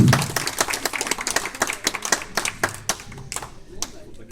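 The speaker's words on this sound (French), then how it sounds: "Vous pouvez l'applaudir." Audience claps for a volunteer at a hypnosis show held for Fnac Nantes staff, a lively burst of close, crisp claps that thins out over about four seconds, with a brief voice at the start.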